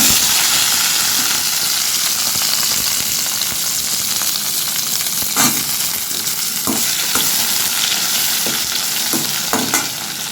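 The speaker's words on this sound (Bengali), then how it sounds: "এবার এই তেলে আমি করলাটা ভেজে নেব" Bitter gourd fries in hot oil in a kadai with a loud, continuous sizzle and hiss, broken by a few sharp clinks and stirring sounds.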